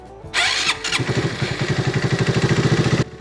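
A Honda Grom motorcycle fitted with a modified oil pump cranks briefly, then fires and settles into a loud, close, rhythmic idle that putters evenly until it cuts off.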